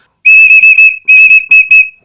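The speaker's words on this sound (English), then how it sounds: "in case you were wondering, ladies and gentlemen, the whistle works." A whistle built into a Mossy Oak multitool blows shrill and loud, two sharp trilling bursts with a brief gap between them, no other sound around it.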